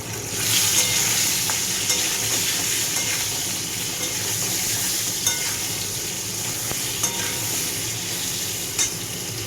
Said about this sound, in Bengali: এটা হওয়া পর্যন্ত একটু অপেক্ষা করব, যে আলুটা যাতে ভাজা ভাজা হয়ে যায়।